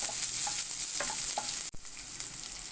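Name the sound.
onions stirred and frying in pan with chayote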